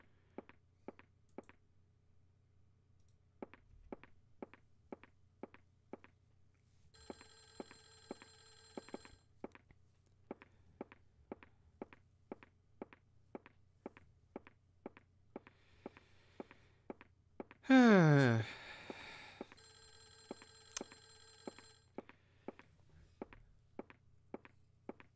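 Telephone ringing in the video game Clock Tower, two bursts of electronic ringing separated by a long gap, over a steady series of footsteps and a low hum, with a brief rising sweep between the rings.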